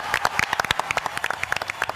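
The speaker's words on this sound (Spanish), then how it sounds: "Y un aplauso" A small studio audience claps for a guest named Pablo on a talk show, sparse, irregular hand claps close by and fairly quiet, with no talking over them.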